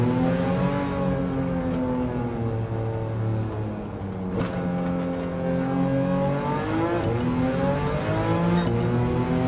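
An engine-swapped 1966 Volkswagen Beetle in Gran Turismo 7 drones steadily as it is driven, the motor's tone rising and falling with throttle and gear changes, loud and close throughout.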